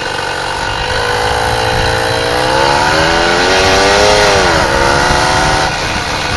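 Lil Red Devil engine fitted with a new suppressor running at speed on a solid steel frame, a loud continuous drone with rising and falling pitch and a slightly uneven, jittery edge under steady wind rush.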